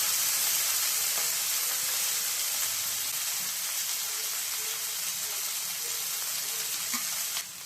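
Chopped leafy greens hit hot oil in a pan for a Kerala thoran stir-fry, giving a steady, close, dense sizzle and hiss that runs throughout with faint stirring scrapes, no talking.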